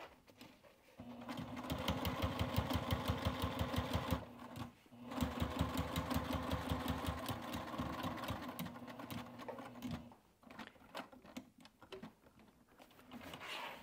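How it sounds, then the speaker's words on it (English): A sewing machine stitches an apron corner in two bursts of rapid, rhythmic clatter separated by a short pause, followed by a few slower, irregular hand-cranked stitches, close and moderately loud with no speech. "I'm going to take a few stitches over, one, two, until I'm about a quarter inch away"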